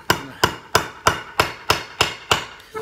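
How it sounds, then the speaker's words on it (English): A hammer strikes hard into a wooden bat while a nail is driven for a DIY Negan-style barbed-wire bat, nine sharp, evenly spaced blows ringing close and loud with quick decay and no talking. "And you just hammer it down."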